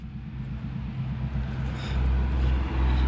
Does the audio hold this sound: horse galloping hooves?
no